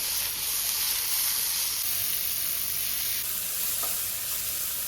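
Onions and tomato frying in a pan for egg masala, giving a steady, close sizzle with a bright hiss that fades slightly partway through, with no talking.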